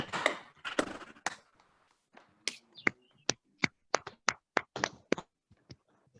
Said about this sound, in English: Can we unmute all of us and give yourself a clap?